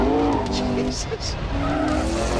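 McLaren P1 hypercar spinning its wheels in sixth gear, tires squealing in sharp high bursts over a loud engine roar, with a person shouting over the noise.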